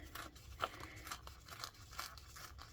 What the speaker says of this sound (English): I will probably go ahead and tear here and then cut it.